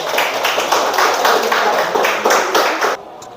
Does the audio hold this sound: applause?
yes